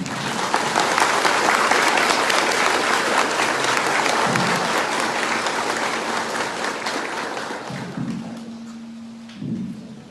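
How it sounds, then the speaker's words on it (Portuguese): A church congregation at an Easter Sunday Mass applauds the newly baptised Christians with sustained, dense clapping that slowly fades, with a faint sustained tone near the end. "Saudemos os novos cristãos com a salva de palmas"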